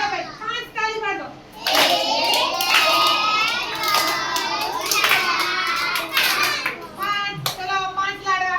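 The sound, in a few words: children clapping five times in class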